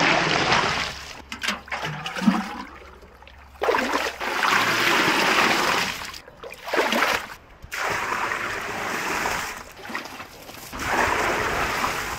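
Water pours steadily from a heavy wash kettle onto garden weeds, a continuous splashing, trickling rush with brief pauses as the stream breaks, close and fairly loud with no talk over it.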